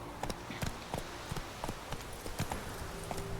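Roach, a horse in The Witcher 3, drums hooves in a quick irregular clip-clop of sharp, close impacts over a steady low ambient bed, with no talking.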